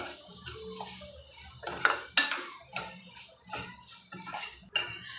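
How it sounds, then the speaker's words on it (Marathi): A spoon clinks and scrapes against a pan as roasted fresh green chickpeas are stirred into an oily masala, with irregular close metallic knocks over a soft background hiss. "आपण हे जे हरभरे भाजून घेतले थोडे ते त्याच्यात घालूया व्यवस्थित मिक्स करूया"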